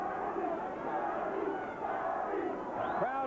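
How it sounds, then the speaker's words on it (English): Boxing arena crowd roaring and cheering during the Arturo Gatti versus Wilson Rodriguez fight, a steady dense wall of voices with shouts rising near the end. "Crowd is lifting Arturo Gatti"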